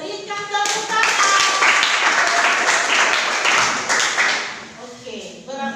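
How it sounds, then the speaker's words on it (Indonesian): Clapping from a small classroom audience after a group presentation, a dense burst of close hand claps that swells and then fades, with voices speaking at the start and again at the end. "Berikan tepuk tangan."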